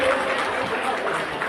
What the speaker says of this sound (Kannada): ಜೋರಾದ ಚಪ್ಪಾಳೆ ಬರಲಿ ಶಿಕ್ಷಕರೇ